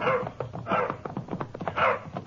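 A dog barks and whimpers in a radio drama set among Texas Rangers on horseback, a run of close, excited yelps and barks with no talk over them.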